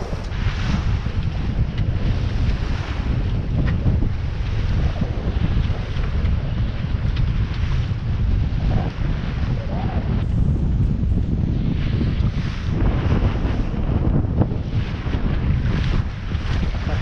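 A strong wind of about 25 knots roars over a heeling sailboat near a beach, with constant loud buffeting on the microphone and sea noise underneath.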